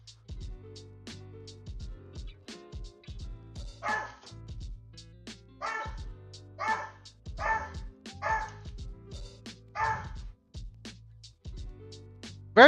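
A territorial dog on a leash barks in loud, close bursts at another dog nearby, with irregular barks, yips and brief whines between quieter gaps.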